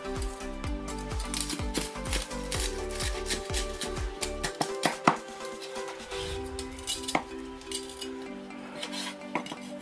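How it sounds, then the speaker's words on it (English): Cleaver chopping crispy salt-baked Chinese pork belly on a board, a quick series of sharp, crunchy knocks with clinks, then slower scattered chops and scraping, close up. "I'm chopping from the top to show you guys how crunchy the skin is."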